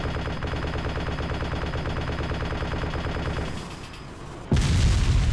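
A vehicle-mounted gun fires in the game ArmA 2 as a loud continuous rapid burst that stops, leaving a quieter lull before another heavy blast of fire bursts in.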